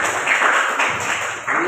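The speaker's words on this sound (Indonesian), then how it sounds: "jadi tepuk tangan dulu untuk adik Citra" A classroom of students applauds their classmate in a short burst of dense clapping that holds steady and then drops off, close and fairly loud, with a voice faintly audible under it.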